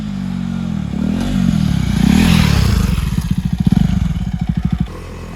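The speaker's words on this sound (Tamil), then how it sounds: "இந்த பைக்கோடைய சவுண்டு வேறு லெவலில் இருந்துச்சு" A modified KTM Duke 250 motorcycle revs hard and close, its engine note swelling and falling, then breaking into a rapid string of sharp pulsing pops and burbles before cutting off.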